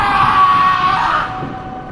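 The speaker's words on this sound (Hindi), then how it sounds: "उसकी चीख पूरे माहौल में गूंज उठी" A scream echoes through a dark vampire castle in a Dracula horror tale: a loud, sustained, piercing wail that holds steady, then thins and fades after about a second, with a reverberant wash beneath.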